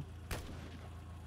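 A single sharp gunshot in the strategy game Xenonauts 2, one quick booming report over a low, steady game background hum, fairly faint overall.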